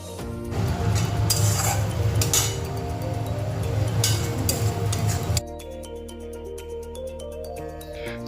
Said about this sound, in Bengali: জল দিয়ে আমি মশলাটা কষিয়ে নিলাম।